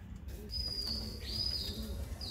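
Soft, low cooing of Madrasi pigeons against a steady background hum, with a few brief chirpy tones above; no talking.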